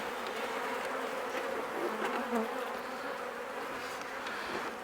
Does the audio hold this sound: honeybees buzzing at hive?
yes